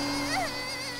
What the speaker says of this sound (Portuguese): É só um aspirador de pó.